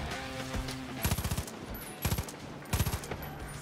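Gunfire in Far Cry 5: three rapid bursts of close automatic shots, each a quick string of loud cracks, separated by short pauses over a low background rumble.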